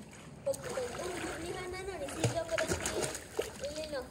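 Someone swimming at night splashes and sloshes in the water nearby, under people talking and calling out.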